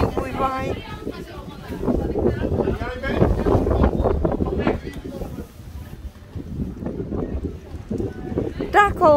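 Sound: wind

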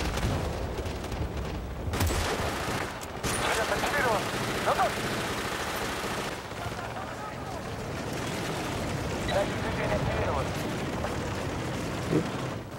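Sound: gunfire in the video game Bad Company 2

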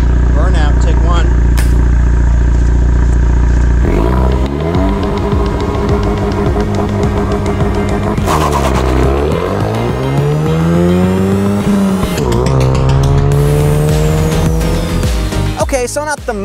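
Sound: 2022 Ford Mustang EcoBoost manual doing a burnout, tires squealing

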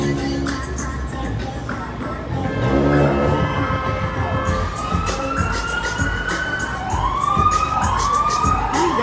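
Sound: ambulance siren passing in the street

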